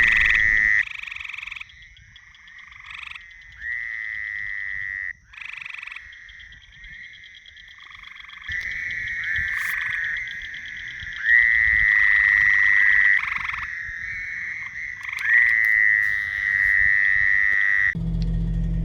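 Frogs croak at night on a poorly drained, muddy solar farm site, a dense chorus of repeated calls that starts moderate and swells louder in the second half, overlapping continuously with a brief low thump at the end.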